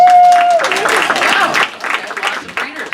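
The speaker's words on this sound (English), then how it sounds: "Give me a round of applause if you have kids" A standup comedy club crowd breaks into loud clapping and cheering after a brief high whistle-like tone, with voices shouting over the applause before it thins out slightly toward the end.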